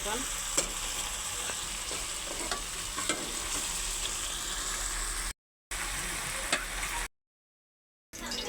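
Fish seasoned with turmeric, chili and salt frying in a pan alongside beef, a continuous close sizzle with stirring scrapes, briefly cut to silence twice.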